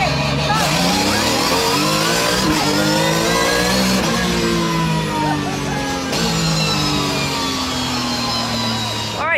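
A first-generation Porsche 911 GT3 Cup race car's rear-mounted 4.5-litre, 460-horsepower engine roars loud and close, revving and shifting pitch through paddle-shift gear changes with a raspy, high-strung tone.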